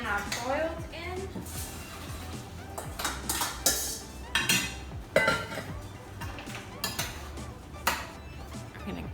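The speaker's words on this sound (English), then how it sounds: "Just gonna dump it right back into the pasta pan I boiled in." Vegan mac and cheese dumped back into a metal pasta pan, giving repeated clinks and scraping knocks of utensil against pan, with a person talking over the sounds.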